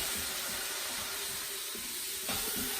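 A whole chicken browning in an Instant Pot sizzles steadily, a constant broadband hiss at moderate level with a slight swell near the end.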